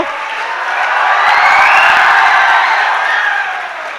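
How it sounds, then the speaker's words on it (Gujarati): Applause for the first-ranked student at a school result ceremony in Jasdan, a dense crowd clapping that swells, holds steady and then eases off, with no one speaking. "મેમરિયા રોનક, અવાજ કરવાની છૂટ છે, જોરદાર તાળીઓ"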